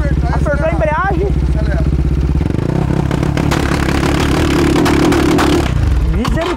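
A Brava Start 470cc engine runs loud and close: a rhythmic idle shifts into a higher sustained revving drone before dropping off, with someone talking over it.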